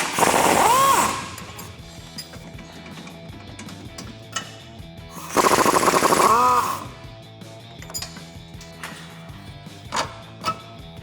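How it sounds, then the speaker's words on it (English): An impact wrench with a 21mm socket rattles off the bottom strut bolts of a 2007-2018 Silverado or Sierra in two loud bursts, the second longer, followed by quieter clicks and clanks. "we're going to remove the bolts on the bottom of our struts here"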